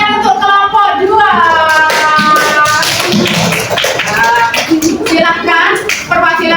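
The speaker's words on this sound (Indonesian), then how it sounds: "Tepuk tangan untuk kelompok 2." Classroom of students clapping for a student group, dense energetic applause lasting several seconds, with voices calling and cheering underneath.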